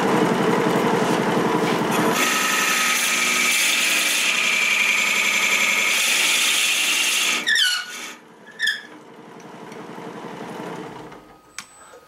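Loud, steady high-pitched grinding screech as a 1.5-inch drill bit bores a matching 1.5-inch hole in wood held in a lathe steady rest, heavy friction throughout, then stopping into a few squeaks and quieter rumble.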